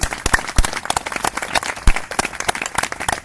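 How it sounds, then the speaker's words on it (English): A small crowd at an outdoor summer picnic claps for a local party president, sharp individual hand claps close by, uneven and lively, with a few cheers. "Let's give Connie Trump a great big round of applause."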